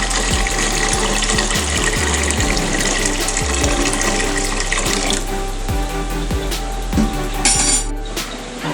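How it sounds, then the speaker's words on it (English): Water pouring steadily into a cooking pot for Khasi ginger pork rice, a loud close splashing stream with a few clinks of the pot, tapering off near the end, no talking. "So here I'll pour some water, because I'm going to cook my jadoh here."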